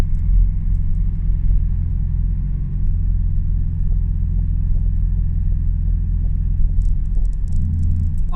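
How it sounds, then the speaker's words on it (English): Backed-up road traffic with large trucks and buses on a back road produces a heavy, continuous low rumble of idling engines, close and loud, with a brief higher whine near the end. "They got large trucks going here."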